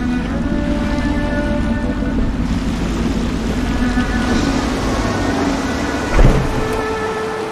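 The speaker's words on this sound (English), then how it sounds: "I should concentrate on piloting this boat." A boat being piloted across water in a video game gives a steady churning wash of water and engine rumble that holds an even level throughout. A brief heavier thump or splash comes near the end.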